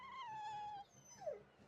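A dog whimpers in the video game Tales of Berseria, one long wavering whine followed by a shorter rising yelp, moderately loud over a faint background hum.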